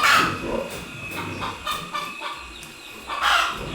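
Close, loud clucking from a young hen, several bursts with short pauses between them.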